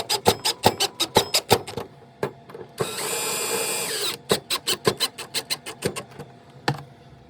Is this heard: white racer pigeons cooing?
no